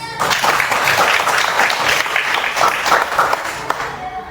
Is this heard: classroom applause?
yes